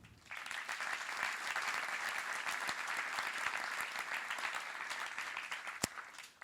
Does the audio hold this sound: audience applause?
yes